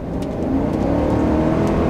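V8 engine of a GMC Sierra AT4X pickup accelerating uphill, a loud steady low rumble from inside the cab that holds constant without pauses.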